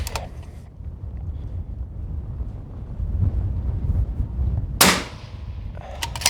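Rifle fitted with an Otter Creek Labs Infinity suppressor brake fires a single sharp, loud shot near the end, standing out over steady outdoor wind rumble and a brief crack at the start.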